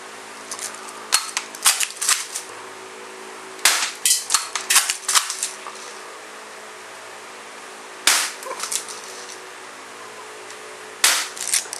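Marksman repeater air pistol firing, sharp snapping shots in irregular bursts with pauses between groups, close and crisp against near silence.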